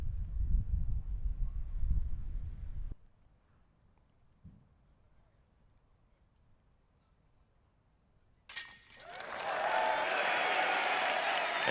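A crowd at a disc golf world championship chase final bursts into loud applause and cheering after a putt, breaking out suddenly after a quiet stretch and carrying on steadily to the end.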